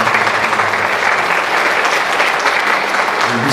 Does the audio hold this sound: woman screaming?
no